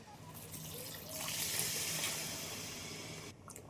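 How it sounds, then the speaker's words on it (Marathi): Hot water poured into a roasted cashew curry masala in a pan makes a smooth, continuous splashing pour that swells and then eases off before stopping near the end, nearby and moderately loud. "आता आपण यामध्ये थोडंसं गरम पाणी टाकलेलं आहे"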